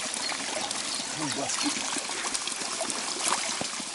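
Cold spring water trickles and splashes steadily as a water bottle is refilled at a mountain spring during a bike tour. Someone speaks briefly over the running water.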